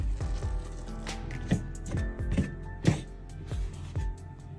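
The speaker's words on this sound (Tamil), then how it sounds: "நல்லா கொதி சுடு தண்ணி விட்டு இந்த மாவை குழைச்செடுக்க போறேன்" Spinach puttu flour is worked by hand with salt and hot water, giving soft wet squishing and patting sounds in an irregular rhythm, close and fairly quiet.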